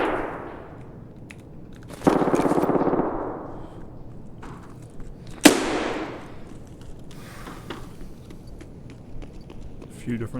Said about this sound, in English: A few different guns going off in there